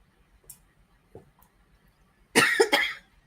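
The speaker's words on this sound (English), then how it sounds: "Sorry, I've got a cough this morning." A single close, harsh cough in two quick bursts breaks an otherwise quiet stretch, after a few faint clicks.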